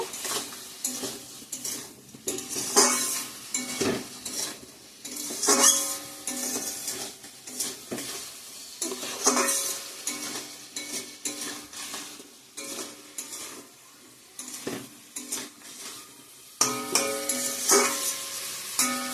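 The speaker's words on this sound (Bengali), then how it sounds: "ভালো করে মশলাটা কষিয়ে নিব।" Spice paste of chili powder, green chili paste, coriander and cumin powder frying in a pan, stirred with repeated scraping and clattering strokes over a soft sizzle, fairly quiet and close.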